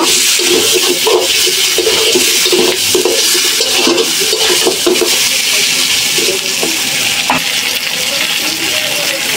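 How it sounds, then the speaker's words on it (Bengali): Ground spices are stirred and fried with pangas fish head in hot oil, sending a loud continuous sizzle with rhythmic scraping strokes of the spoon close by. "লাড়া দিয়ে মশলাটা ভাজা হোক।"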